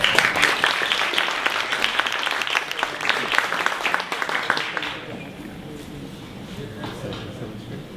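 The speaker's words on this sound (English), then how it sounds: "please let's have another round of applause for her" Audience applause at a university breakfast event, a dense steady clapping that fills the first five seconds and then thins to scattered claps and a softer room murmur.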